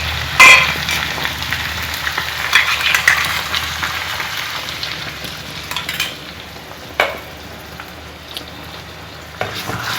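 Chicken vindaloo masala stirred in a frying pan, a steady sizzle with scraping spoon strokes and occasional clinks against the pan, close and fairly loud.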